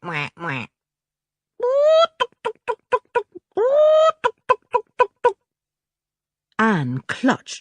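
Farmyard ducks quacking and hens clucking, imitated by a human voice in rapid bursts of short repeated calls separated by pauses, loud and close with no other sound.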